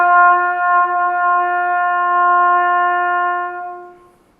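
A trumpet is played open with no valves pressed, like a bugle, holding one clear, loud note for about four seconds before it fades out.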